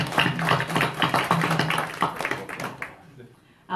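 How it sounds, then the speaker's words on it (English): Applause breaks out in a county commission meeting room, a brief burst of many hands clapping that fades out after a few seconds. "I'd like to ask for a round of applause for Chris Forehand"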